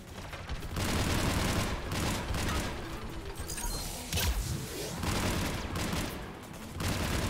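Sustained automatic fire from a mounted turret in the video game Mass Effect 3, a dense continuous rattle of shots with impacts and crashes layered over it, loud and unbroken for several seconds.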